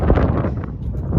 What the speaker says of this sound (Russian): и ветер такой сильный